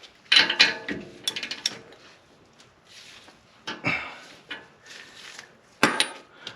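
Hand ratchet tightening a lower control arm bolt on a BMW X5 E70, irregular close clicking strokes with metallic clinks and pauses between them, no talk.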